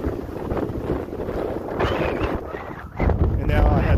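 Strong outdoor wind buffets a lavalier microphone, making low rumbling gusts that swell and grow heavier toward the end, mixed with faint voice-like sounds.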